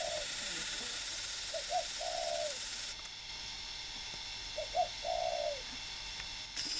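A spotted dove sitting on its nest gives soft, low coos in two short bursts against a faint hiss of background noise, with a little distant chirping.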